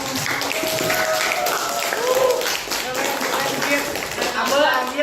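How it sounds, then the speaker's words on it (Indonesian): A high-school classroom applauds, with steady clapping from a group of students mixed with chatter and voices throughout. "Oke, aplaus buat"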